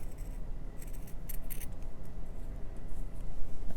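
Fabric scraps are cut three layers at a time with scissors for textured mermaid-scale stitching, heard as a few crisp snips close by over a steady low background hum, with no talking.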